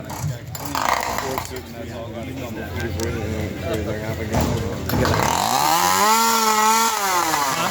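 A chainsaw runs at an unlimited class sawfest competition, a loud buzzing engine that rises in pitch and revs up strongly toward the end, with people talking over it early on.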